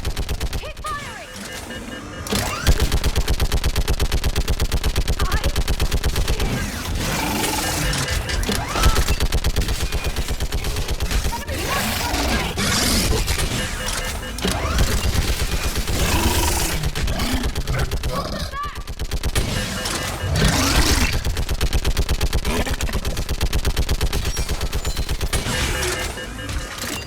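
Dense, continuous gunfire from a Mass Effect 3 battle, with rapid overlapping bursts of automatic weapons that stay loud throughout, mixed with voices and combat noise and briefly thinning around the middle.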